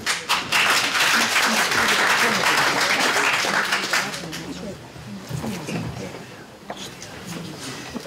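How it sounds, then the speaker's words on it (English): Audience applause at a deputy hustings meeting in St. Brelade, a burst of close clapping that stays strong for a few seconds, then thins out as talking takes over. "I think he deserves a round of applause."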